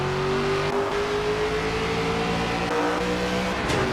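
A race car engine in a racing video game drones loudly and steadily at high revs, its pitch gliding slowly as the car holds speed, with no voices over it.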